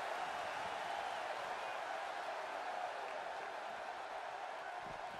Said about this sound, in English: by the sounds of it, this crowd is ready for anything that happens tonight.